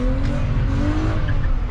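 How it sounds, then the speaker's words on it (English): A BMW 320i E36 coupe's 150 hp engine roars loudly close by as tires squeal through a sliding turn on a city street, the pitch shifting steadily for under two seconds. "Here a nice turn for drift."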